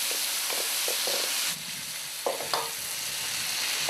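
Prawns cooking in a pan for an asam prawn dish, a bright hissing sizzle with a few soft stirring scrapes, the sizzle easing partway through as a couple of louder clatters follow.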